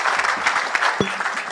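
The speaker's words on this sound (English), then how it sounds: "Round of applause." A conference audience at the Surgical Society of Kenya annual scientific meeting gives a brief round of applause, dense steady clapping throughout, with a single short thump partway through.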